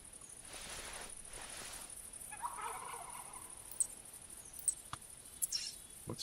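Wild turkey gobbling in the hunting game theHunter Classic, faint and distant calls over a quiet outdoor ambience with insect-like chirps and a few soft clicks.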